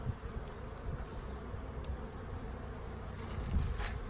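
Honey bees buzz around an open hive during a January inspection, a steady, soft swarm drone with individual bees passing close now and then.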